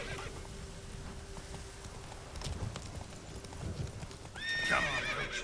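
Roach, Geralt's horse in The Witcher 3, clip-clops along at a steady pace under faint background sound, then lets out a loud whinny near the end.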